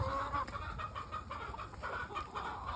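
Several homestead chickens cluck softly and repeatedly close by at feeding time, a busy overlapping chatter of short calls with no talking.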